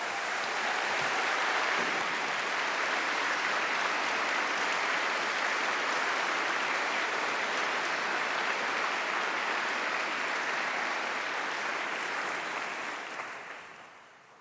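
Graduands clapping together at a university summer graduation congregation, a broad continuous wash of applause filling a large hall, steady for over ten seconds before fading out at the end.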